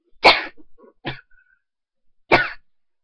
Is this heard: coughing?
yes